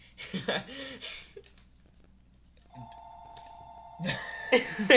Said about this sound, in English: the house phone ringing